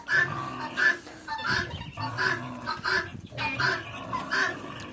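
Hens cluck repeatedly in short bursts, close by, with a steady rhythm of soft, throaty calls.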